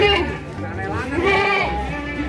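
Goats bleat in wavering cries at a livestock market in Dau, Malang, with a couple of calls close by over low crowd murmur and a person talking.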